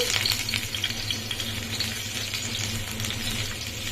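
Onions frying in a pan, a loud, dense sizzle close by, with a brief stir at the start and no talking.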